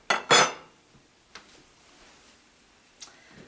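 A spoon scrapes and clinks against a pot of Indian lentil soup (dal), opening with two quick loud metallic strokes followed by a few faint, sparse taps.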